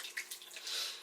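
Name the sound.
pouring hot water from a pot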